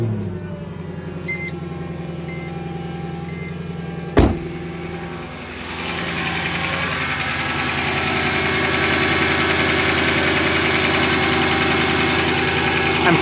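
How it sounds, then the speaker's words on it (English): Mercedes AMG engine runs at idle up close, a steady loud rumble with a sharp knock partway through and a broadening hiss that builds and holds afterward. "It's kind of hard to hear because the AMG engine's so loud"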